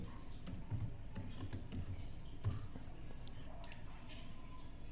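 Soft clicking of keys being tapped on a computer keyboard, several quick light strokes in uneven bursts over a low steady background hum, fairly faint and close.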